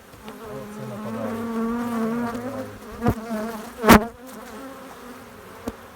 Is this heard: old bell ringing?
no